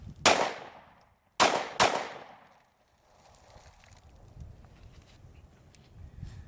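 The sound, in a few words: Ruger LC9 pistol gunshots at close range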